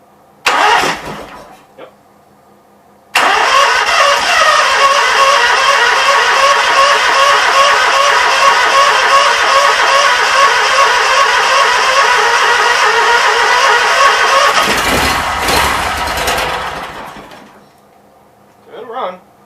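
A Briggs & Stratton Vanguard engine sputters briefly, then catches and runs loudly and steadily for about twelve seconds close by before winding down, with a short spoken word.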